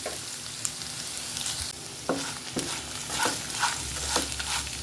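Onions sauté in a pan for a Kerala-style chammanthi, frying with a continuous close sizzle while a utensil stirs and scrapes in several distinct strokes.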